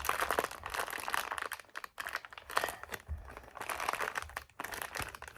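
Plastic and cardboard packaging of a toy pet bed being pulled and torn open by hand, a steady stream of close crinkling, crackling and tearing with short pauses.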